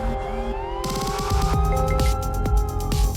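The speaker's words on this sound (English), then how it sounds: "Sirens never stop." Emergency sirens wail through a street, several rising and falling tones overlapping with rhythmic pulsing horns, loud and continuous over traffic rumble.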